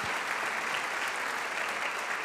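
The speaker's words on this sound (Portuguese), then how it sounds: "Você pode aplaudir ao Senhor?" Church congregation applauding the Lord during a Portuguese-language worship service, a steady, dense wash of clapping from many hands that fills the room, unbroken and fairly loud throughout, with no voices standing out.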